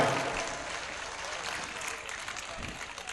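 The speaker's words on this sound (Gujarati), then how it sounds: "તાળીઓના ગગડાટથી વધાવો ભાઈ ભાઈ" A live audience at a Gujarati comedy performance claps in a thick, continuous wash that eases off slightly toward the end.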